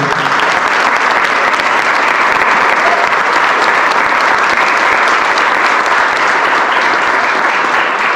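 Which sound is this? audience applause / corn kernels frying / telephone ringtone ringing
audience applause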